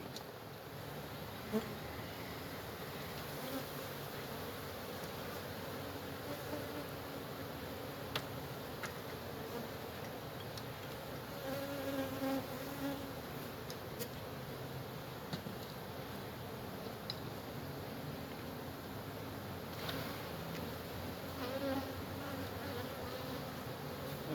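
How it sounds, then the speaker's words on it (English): Dense, steady buzzing of many honey bees from an opened hive with comb exposed fills the whole stretch, loud and continuous with an agitated, swarming intensity and no talking. "These bees are not happy."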